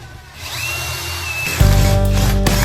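Power drill boring into material, a rising whine that steps up sharply into a louder, heavier grinding drone halfway through, with a brief spike near the end; close and continuous, no talking.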